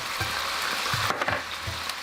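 Ginger and three cloves of garlic sizzle steadily in a shrimp lo mein stir-fry, a continuous close frying hiss with a few soft low knocks from the pan, no voices.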